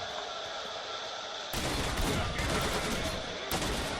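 Bursts of rapid gunfire in the video game S.T.A.L.K.E.R.: Shadow of Chernobyl break out suddenly after a quieter stretch, dense crackling shots continuing steadily with a second burst near the end.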